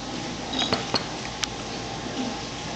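A child taps cutlery against a plate at a family meal, giving a few light, sharp clinks spaced over a couple of seconds above a quiet room hum.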